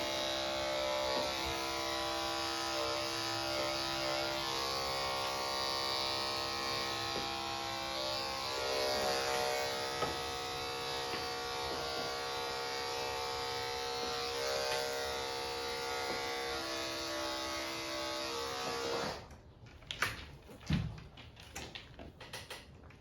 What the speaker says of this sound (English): whenever I'm trimming the ears, I always like to do the inner ear first and just trim it closely